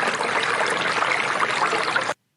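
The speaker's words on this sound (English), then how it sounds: "And I might want to have something like running water" Running water in a stream trickling and splashing steadily at close range, a dense, continuous babble with no voices, cutting off abruptly near the end.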